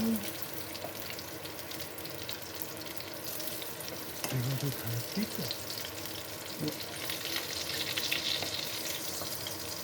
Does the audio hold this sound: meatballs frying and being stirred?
yes